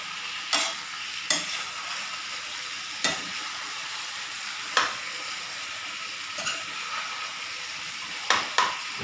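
Chicken meat sizzling steadily in a kadai, punctuated every second or two by sharp scrapes of a spatula stirring it; no voices.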